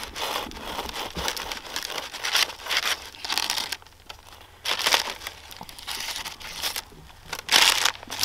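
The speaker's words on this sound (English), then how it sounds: "Gonna get out the bread saw. We're gonna cut into this bread." A bread saw cuts into a crusty loaf of Dutch oven bread, making repeated rough rasping and crunching strokes with short pauses between them. The sound is close and fairly loud, and nothing else is heard.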